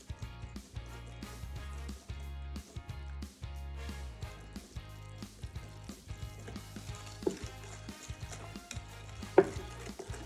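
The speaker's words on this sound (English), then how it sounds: "We can easily just use a whisk." Milk is whisked into pumpkin pie filling in a bowl, giving quick, rhythmic wet strokes and light clinks of the whisk against the bowl, close and steady throughout, with a single louder tap near the end.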